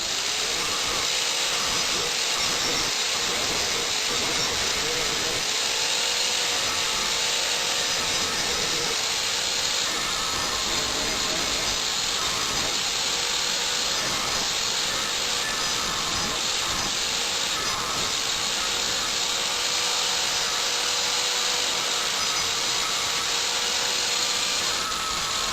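A power tool grinding down the cantilever brake posts on a bicycle frame, a loud, steady, unbroken high whine and hiss that holds for the whole stretch, close up with no talking.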